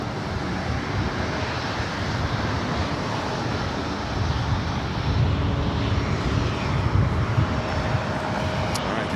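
A departing airliner at Los Angeles International Airport, with a steady, loud broadband engine roar and a low rumble sustained throughout, slightly swelling toward the end, with no voices.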